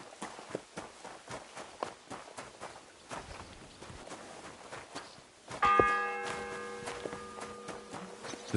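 Church bell in the Kingdom Come Deliverance 2 video game rings out with one loud strike and a long sustained hum, following footsteps and hoofbeats in a medieval town.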